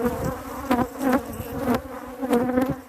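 Honey bees buzz close by in a bee yard at a colony whose foragers have died, a dense, wavering drone with repeated rises and falls in pitch as individual bees pass near.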